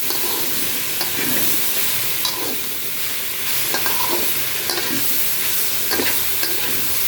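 Malabar spinach stems and leaves are stir-fried in a pan, with a steady sizzle broken by repeated scraping and stirring strokes, close and clear, and nobody talking.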